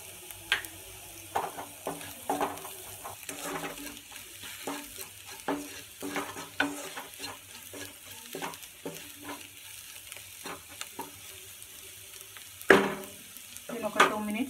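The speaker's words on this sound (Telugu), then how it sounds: "నేను ఒక 2 మినిట్స్ ఫ్రై అవ్వనిద్దామండి" Salted oil and ingredients fry in a pan for a bitter gourd fry, a quiet ongoing sizzle broken by frequent scraping stirs and spatula clicks, with one sharper clatter near the end.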